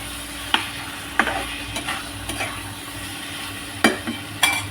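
Salted marinated meat sizzling in a pan under a constant frying hiss, with a few sharp spatula scrapes and knocks scattered through it at close range.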